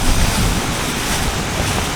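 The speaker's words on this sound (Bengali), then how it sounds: "আজকে প্রচন্ড বাতাস, এই জন্য রান্না করতে খুব সমস্যা হচ্ছে," Strong wind buffets the microphone in a continuous loud roar during outdoor cooking of raw mango chutney, drowning out other sound.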